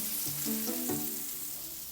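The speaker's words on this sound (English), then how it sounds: "that's what I want, that good sizzle" Turkey burger patties fry in a hot skillet, giving a steady, close hiss of frying with a few brief clinks early on, with no voices.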